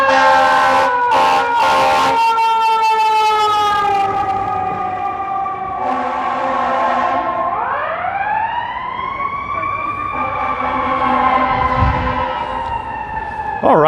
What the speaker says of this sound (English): There's a fire station nearby. That's why you're hearing sirens come every now and then.